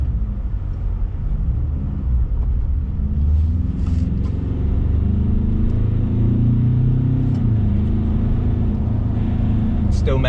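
Ford Ranger Raptor pickup driving in limp mode, a steady low engine and road rumble from inside the cab with a slight rise in revs partway through, continuous and fairly loud throughout.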